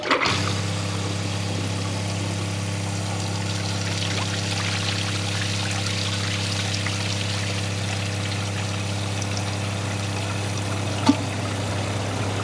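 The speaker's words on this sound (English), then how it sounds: "Now, for the last flush, I'm gonna overflow it." A 2003 Crane Galaxy Elite toilet flushes while overflowing, giving a steady, loud rush of pouring and trickling water that runs unbroken throughout, with a brief knock near the end.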